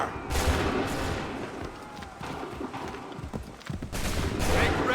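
Musket volleys crack out across a battlefield in Assassin's Creed 3, several bursts of ragged gunfire with rumbling echoes and horse hooves in the background, loud and fairly close.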